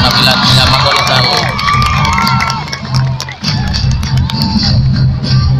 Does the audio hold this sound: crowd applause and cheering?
yes